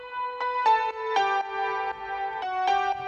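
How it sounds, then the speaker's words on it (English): Piano plays in a lower register within a corporate pop arrangement, a short sequence of clean, evenly spaced chords and notes, alone and moderately quiet. "I added some piano, but in previous 8 bars, piano was in lower register."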